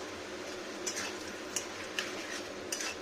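Fish head frying in a little oil for a cabbage dish: a quiet, steady sizzling hiss throughout, broken by a few light utensil clinks against the pan.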